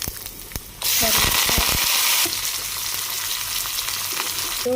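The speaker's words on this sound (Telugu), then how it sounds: "వెల్లుల్లిపాయ, ఆవాలు, జీలకర్ర, మిరపకాయలు కలుపుకొని ఇంగువ యాడ్ చేసుకొని" Garlic, mustard seeds, cumin, chillies and asafoetida frying in hot oil for a tempering, a loud steady sizzle that bursts in abruptly and continues, easing slightly partway through, with a few pops and no talk.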